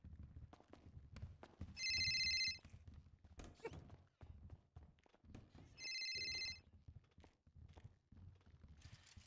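A phone rings in a courtroom, two electronic ring bursts a few seconds apart, loud and clear over quiet room rustle and thumps.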